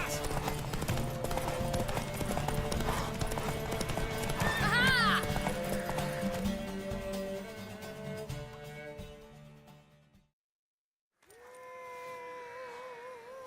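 Horse hooves clip-clop in a rhythmic gallop in The Witcher 3, loud and busy beneath music and game sounds, with a whinny partway through, before a brief silence and then quieter tonal music.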